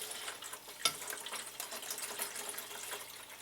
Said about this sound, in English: You see that I'm pouring it right through this sieve.